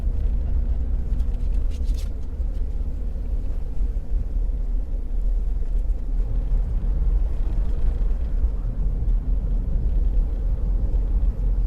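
A Daihatsu Copen LA400K (Copen Cero) with its top open creeps slowly along a narrow wooded road inside Chigasaki Satoyama Park, giving a steady, close low engine and road rumble throughout.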